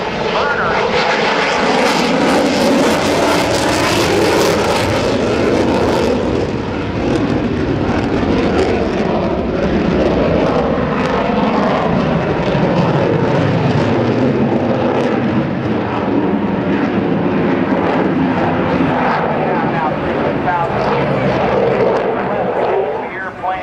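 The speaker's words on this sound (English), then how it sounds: "This is the carrier configuration pass from your United States Navy's A-18C Hornet." A US Navy F/A-18C Hornet jet makes a carrier configuration pass at the 2010 NAS Oceana Airshow, its engine roar loud and sustained before slowly fading, while an announcer talks over it on a public address system.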